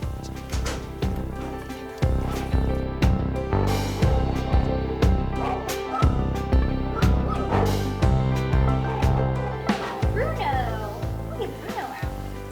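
Shelter puppies yip and bark in short bursts amid a busy indoor kennel, the dog calls partly buried under music and people talking throughout.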